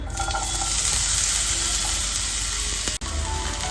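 Small diced potatoes frying in oil in a pan, giving a loud, continuous close sizzle with faint stirring. The sound briefly cuts out near the end.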